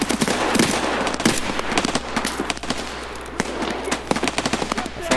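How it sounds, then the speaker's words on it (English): Loud gunfire in the Escape from Tarkov shooter game crackles in dense rapid bursts and single shots over a constant rumble, close and harsh throughout. "Where am I getting shot from?"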